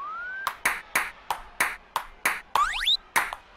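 Virtual ping pong ball bouncing in the 1-2-Switch Table Tennis game: eight crisp, evenly spaced pings in a steady back-and-forth rhythm, close and clear, with a brief rising electronic swoosh between the later hits.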